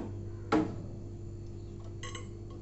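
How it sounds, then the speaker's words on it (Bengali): Glass turntable plate lifted out of an LG 28-litre convection microwave oven, giving one sharp clink near the start, then faint light taps over a steady low hum. "প্রথমে আমি ওই টার্নার প্লেটটা বার করে নেব।"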